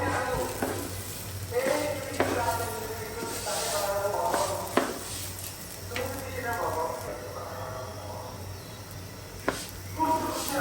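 Rice fries in a large pot for pulao, giving a continuous sizzle broken by repeated scraping strokes of stirring, with a voice heard at times.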